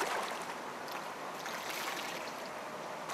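River water flows in a steady, quiet rush while wool is washed by hand in the river, with a continuous soft gurgle and no voices.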